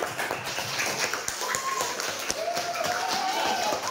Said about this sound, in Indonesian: Yang semangat, tepuk tangan.